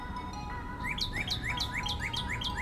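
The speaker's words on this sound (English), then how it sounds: "This bird was singing really loud." A songbird sings loudly nearby, repeating a quick series of bright rising chirps in a regular rhythm over a soft indoor background hum.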